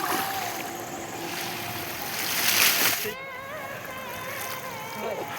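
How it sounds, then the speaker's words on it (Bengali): Waves stirred up by a passing carbon ship wash and splash against a boat on open water, a steady rushing swell that surges and then eases, with faint voices in the background. "ঢেউটা এসেছে দেখো গাইস, সেই লেভেলে ঢেউ এসেছে"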